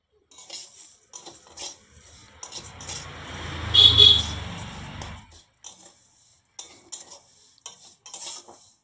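Vermicelli fries in hot ghee in a kadai while being stirred, with scraping and clinking that swell into a dense sizzle midway before fading back to scattered spoon clinks against the pan.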